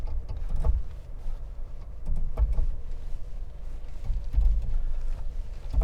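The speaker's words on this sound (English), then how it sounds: "it's using individual brakes to slowly ease me down the hill" 2023 GMC Canyon AT4X creeping down a steep off-road descent at about two miles an hour, low rumbling drivetrain noise with repeated thumps and crunches from tires and suspension over rough ground, heard from the cabin.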